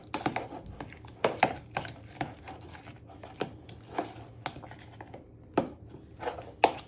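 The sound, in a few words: mixing prawn cocktail sauce with mayo and chives in a bowl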